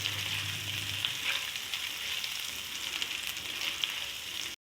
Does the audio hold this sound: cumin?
yes